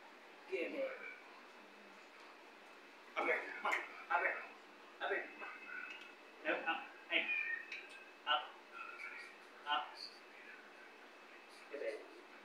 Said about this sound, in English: He got that cat trained pretty well.